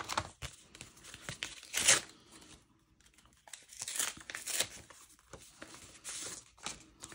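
A card envelope from a Halloween craft swap is torn open by hand, with several sharp ripping bursts and crinkling paper handling between them, close and clear with no talk.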